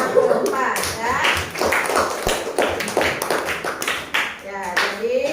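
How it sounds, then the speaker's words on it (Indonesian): Children in an elementary school classroom clap together in quick, uneven bursts, loud and near, with voices chattering and calling out between and over the claps. "tepuk tangan untuk sila keempat ya"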